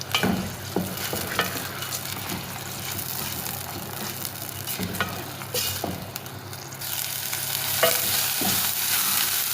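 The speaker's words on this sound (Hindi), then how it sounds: "इसको दरमियानी आंच पे हम फ्राई करेंगे यहाँ तक कि इसका कलर चेंज हो जाए" Onion paste frying over medium heat in a pan for anda chana, a steady close sizzle with occasional stirring scrapes, getting louder toward the end, no talk.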